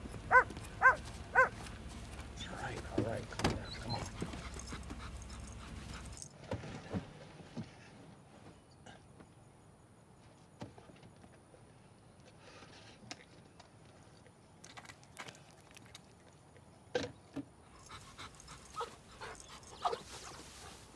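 A dog barks a few times up close at the start, then quieter snuffling and panting sounds with occasional sharp noises follow over a low hum, ending with more scattered barks and movement.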